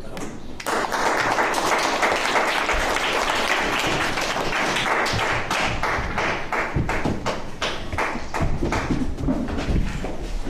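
An audience at a French-language quiz competition breaks into loud, sustained applause with sharp, rhythmic clapping that carries on for several seconds.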